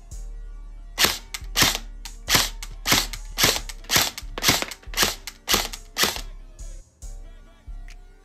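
A GameFace airsoft AEG rifle fires about a dozen single shots in a steady rhythm, each a sharp close crack with a mechanical whir underneath. A low hum runs throughout.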